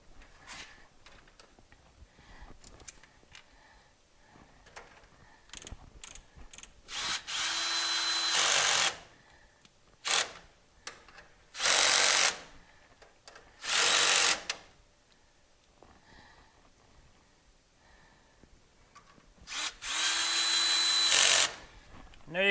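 A power drill drives screws into a garage door track bracket in several loud, whining bursts of a second or two each, separated by quieter handling noises and small clicks.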